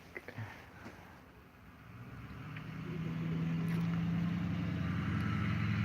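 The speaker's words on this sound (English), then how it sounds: "he sees a truck going by" A truck rolls past, its engine rumble swelling from faint to a steady, loud low drone by the end, with no voices.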